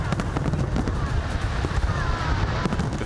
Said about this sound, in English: Spectacular fireworks at Victoria Harbour ushered in the new year.